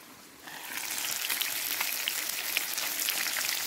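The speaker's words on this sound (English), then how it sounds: "That's what you call proper sizzling." A steady, close crackling sizzle of food in a pan at a wild campsite swells in after a quiet start and holds as a dense hiss of frying with no voices.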